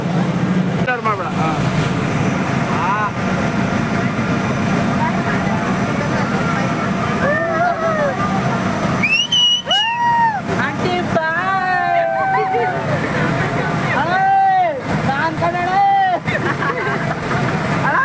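A boat ride on open water, with constant wind buffeting the microphone and rushing water under several people talking and calling out nearby throughout.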